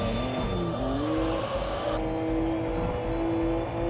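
Race cars roaring through the Import Tuner Challenge racing game, a steady high engine whine climbing through gear shifts with tire squeal layered in, loud and continuous with no talking.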